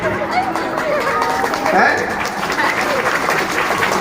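A crowd at a Bhagavat Katha religious discourse bursts into sustained clapping, dense and continuous, with some voices and chatter mixed into the applause.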